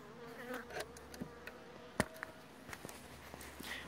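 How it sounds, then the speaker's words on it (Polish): Many honey bees buzz around hives at an apiary, a steady insect drone with occasional louder passes of individual bees close by and small clicks and knocks in the background. "I na drugiej pasiece to samo. Od groma pszczoły."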